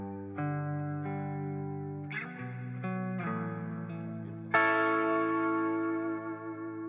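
An electric guitar played through a New Neighbor Wet Mono Reverb pedal rings out a few sustained chords and single notes, each attack blooming into a long, washy reverb tail, with no voices.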